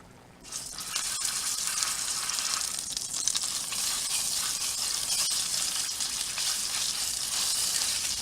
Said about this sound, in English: It's sizzle time.